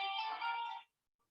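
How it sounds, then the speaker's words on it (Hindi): A phone ringtone chimes loudly and close for most of a second, then cuts off into silence with a faint brief tone afterward. "फोन बज रहा है।"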